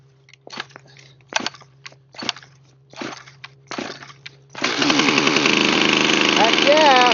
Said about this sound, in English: Minus 27 start for a chainsaw.